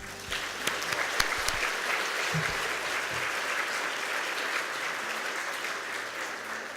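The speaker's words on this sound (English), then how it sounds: "Does that deserve a round of applause?" Audience applause at a women in business chair's lunch, a steady dense wash of many hands clapping throughout, moderately distant and even, fading slightly toward the end.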